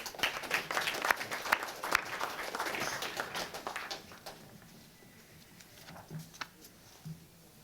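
Applause for award winners at an awards ceremony, a crowd clapping briskly and fairly loud for about four seconds, then thinning out into a few scattered claps and faint room noise.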